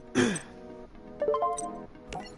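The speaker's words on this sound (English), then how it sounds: "Sorry, I'm coughing a lot" A person coughs and clears their throat in a short harsh burst near the start, followed by faint clinking and shuffling sounds, with a brief second rasp near the end.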